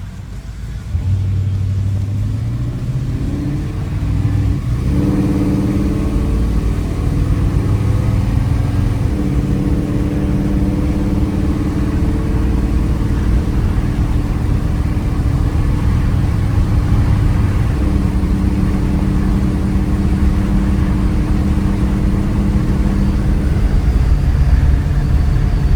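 A 1956 Chevrolet Bel Air with a fuel-injected 350 V8 and 700R4 automatic overdrive transmission drives along, its engine a steady, close, loud rumble that revs up early and then settles into a continuous cruising drone.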